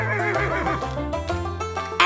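A loud horse neigh, a long wavering whinny, plays over upbeat country hoedown music during a kids' dance-fitness routine, with faint hoof clip-clops mixed in.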